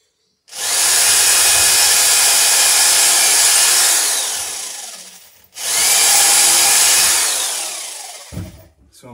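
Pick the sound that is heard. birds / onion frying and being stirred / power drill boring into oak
power drill boring into oak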